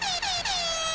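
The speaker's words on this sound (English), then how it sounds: "Hey, where's our air horns?" Loud, continuous air horn blast with a bright, harmonic-rich tone, briefly dipping twice before sustaining to the end, heard alone without talk.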